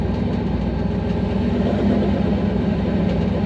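A vehicle engine idles steadily after its intercooler blew from too much boost, with a loud, continuous low rumble and an even throb throughout and no talking.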